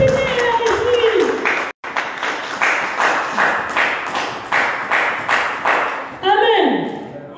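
A church congregation claps in rhythm to acclaim the Lord, a run of regular, evenly spaced loud claps under a preacher's voice, with a brief pause near the start before the beat resumes.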